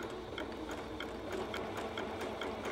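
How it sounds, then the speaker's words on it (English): A sewing machine runs a zigzag stitch along the edge of ruffle fabric with a steady, fast needle clatter in even, close-up pulses, no voices. "So just continue to sew down the entire edge,"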